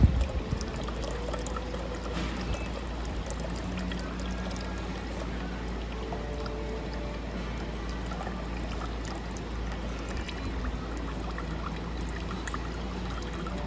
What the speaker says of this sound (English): continue to fill until there's no more water coming out of the dispenser.